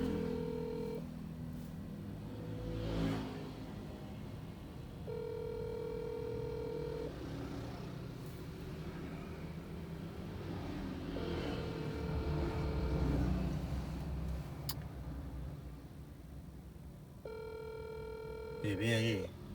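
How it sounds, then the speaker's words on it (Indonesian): Phone ringback tone from a ride-hailing driver's call to a customer in Prawirotaman, repeated tone bursts over car cabin rumble, with someone talking at times. "tak telepon lagi aja"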